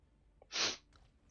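A single close, sharp sneeze bursts out after a quick intake of breath, then quiet.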